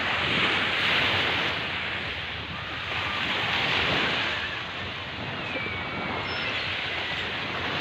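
Sea waves at Tabon beach in Baybay, a steady broadband wash of surf that swells and eases gently, mixed with wind buffeting the microphone, with no voices.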